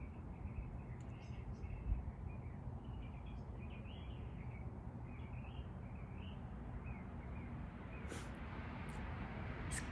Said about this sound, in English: I don't know if you hear the birds singing, but the birds are singing